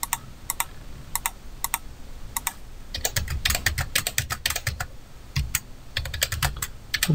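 Typing on a computer keyboard, entering a record into a Java Swing form: irregular clusters of sharp close keystrokes, sparse at first and then quicker and denser, no talking.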